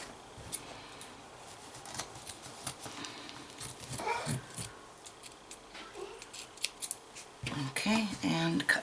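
Scissors trimming flannel for a quilting felt board, a series of close, crisp snips and cloth rustles, with a voice talking near the end.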